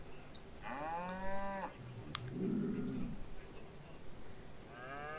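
Cattle lowing in the Farming Simulator 22 video game, where a small herd of four heifers and a bull gives a long, clear moo, then a deeper lowing call and another moo starting at the end, all over a steady ambient hiss.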